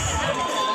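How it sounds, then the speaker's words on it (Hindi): Dense crowd murmur at the Kalahandi Utsav fair in Dharmagarh, a steady wash of many voices with distant shouts, heard briefly and continuously. "देखिए तो दोस्तों देख सकते हो काफ़ी भीड़ है यहाँ पे"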